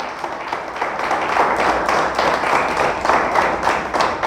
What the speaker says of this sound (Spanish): Oiga, pero dale fuerte el aplauso